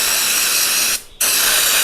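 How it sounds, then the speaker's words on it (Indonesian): Cleaner sprayed onto a clogged fuel injector filter: two loud, hissing aerosol bursts separated by a short pause, close up, with no voices. "Kita bisa bersihin, kita semprot-semprot."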